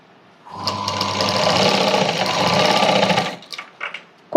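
An electric sewing machine stitches a cross-cut blouse, a loud close whirring run of rapid needle strokes lasting about three seconds, then a few short clicks and handling knocks.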